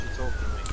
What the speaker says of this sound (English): You want to shut my siren off and bring the Mustang?